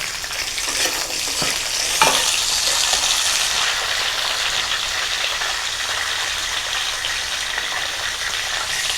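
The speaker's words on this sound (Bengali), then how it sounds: "এখন আলুগুলো একটু করে হালকা ভেজে নেব।" Potatoes frying lightly in oil with salt and turmeric for a bighead fish recipe, giving a steady, dense sizzle that holds evenly throughout, with a brief clatter of stirring near the start and no talking.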